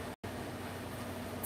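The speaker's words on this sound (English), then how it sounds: "I am going to turn the air conditioner back on, you guys." An air conditioner runs indoors in a craft room, giving a steady, even rumble and hiss that fills the background, with one brief cut-out near the start.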